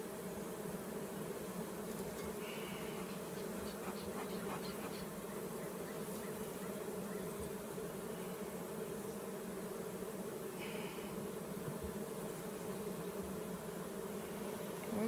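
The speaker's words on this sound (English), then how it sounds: "Well, it sure is a healthy swarm hive." Bees buzz steadily around a swarm hive outdoors among sourwood trees, a faint, continuous drone that never lets up.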